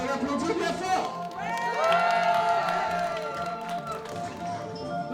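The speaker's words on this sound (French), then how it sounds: "On peut l'applaudir bien fort." Wedding guests at a 20th anniversary celebration clapping and cheering for a game winner, a lively crowd burst with whoops and overlapping voices over about five seconds, while a tonal sound, likely a voice, rises through the middle.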